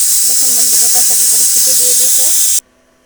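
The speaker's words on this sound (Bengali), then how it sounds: "প্রেশার কুকারে বসাই দিয়েছি এখন এই সিটি দেখুন" A pressure cooker cooking rooster meat vents steam with a loud, steady, close hiss for about two and a half seconds, then cuts off abruptly; a voice talks faintly under the hiss.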